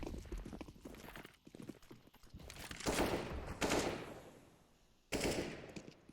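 Gunfire from the Counter-Strike video game, several bursts of rapid shots with two loud sprays standing out, mixed with clattering game sounds at moderate level.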